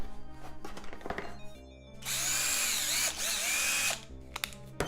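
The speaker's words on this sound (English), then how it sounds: "Sir, you need to upgrade your drill set." A power drill from the video game Exfil Zone whirs in a steady, loud two-second burst after scattered clicks and knocks, with no talking.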